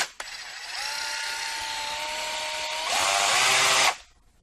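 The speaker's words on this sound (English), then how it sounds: "it's a nice electric sander." Black+Decker 20V mouse sander running close by in a steady high whine with a buzzing rasp, starting abruptly, growing louder near the end, then cutting off.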